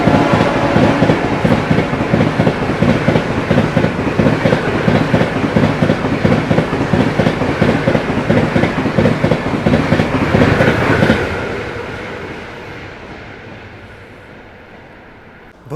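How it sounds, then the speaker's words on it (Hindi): The Bhubaneswar–New Delhi Tejas Rajdhani Express overtakes a Duronto Express, heard from on board as a loud, steady rolling roar with rhythmic clickety-clack of wheels over rail joints that abruptly drops away and fades near the end. "यहाँ भुवनेश्वर दुरंतो को ओवरटेक करने जा रही है भुवनेश्वर न्यू दिल्ली तेजस राजधानी एक्सप्रेस"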